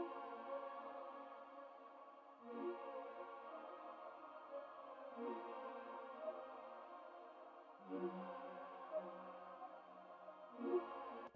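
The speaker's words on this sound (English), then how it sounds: "I used a choir sound and I just copied over the melody from the first guitar sound" A synthetic choir patch sings a guitar melody in long, smooth sustained tones, soft and quiet, with gentle swells every few seconds and no other sounds.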